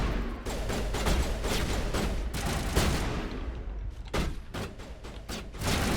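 Dense gunfire from the Mass Effect video game, rapid shots and bursts rattling almost continuously with heavy thuds mixed in, briefly thinning before resuming loudly.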